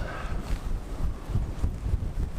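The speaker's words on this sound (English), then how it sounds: "it's another windy day" Gusty wind buffets the microphone outdoors while deer hunting in Michigan, producing low, uneven rumbling and muffled thumps throughout.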